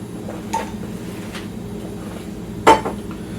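A spatula scrapes butter from a mixing bowl while making cinnamon bread, producing a few soft scrapes and light clinks against the bowl, with one louder knock near the end, in a quiet kitchen.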